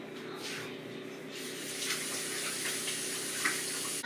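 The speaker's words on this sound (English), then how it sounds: "I'm going to wash my hands one more time and put my gloves on." Tap water runs steadily into a sink while hands are washed beneath it, a constant close hiss with faint splashes and no talking.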